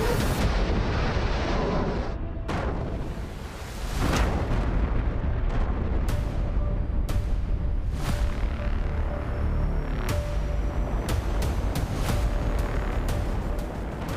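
Russian Father of All Bombs explosion, a loud sustained roar of blast noise broken by several sharp booming cracks and bursts, with no speech.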